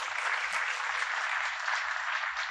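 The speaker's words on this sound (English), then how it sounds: "So big round of applause for him." A conference crowd at a robotics event applauds a student speaker, producing a steady, even wash of clapping with a faint low thumping pulse beneath it.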